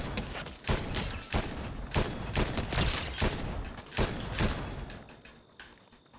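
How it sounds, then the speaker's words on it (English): Rapid bursts of gunfire in a video game, a dense fusillade of overlapping shots and thuds aimed at the player, loud and sustained before thinning out. "Who is shooting at us?"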